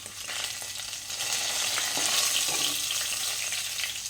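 Mustard seeds, fenugreek, ginger, garlic and green chilli fry in hot oil with a loud, dense, continuous sizzle that swells slightly midway, and stirring sounds mix into the hiss.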